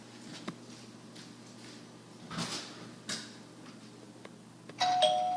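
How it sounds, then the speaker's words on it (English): Faint household shuffling and knocks come first, then a house doorbell gives a single clear chime near the end. "That's the doorbell."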